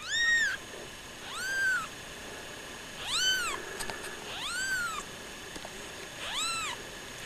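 Newborn kittens, eight hours old, give five thin, high rising-and-falling meows at an uneven pace, close and fairly clear over a low background hiss.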